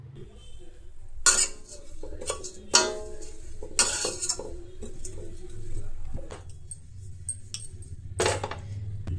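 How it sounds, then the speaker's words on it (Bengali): Dry oats being roasted in a pan with no oil, a spoon or spatula scraping and clinking against the metal in irregular bursts over a low background hum. "প্রথমে ওটসটা একটু শুকনো খড়ায় ভেজে নেব।"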